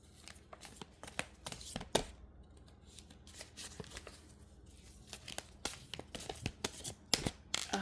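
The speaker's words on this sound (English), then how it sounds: "it's hard for me to shuffle the deck right here" A deck of cards being shuffled nearby, sharp papery snaps and flicks in irregular bursts with a few quieter gaps.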